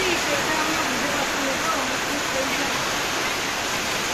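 River floodwater rushes into flooded fields, a steady broadband roar of flowing water, loud and unbroken, with no clear speech over it.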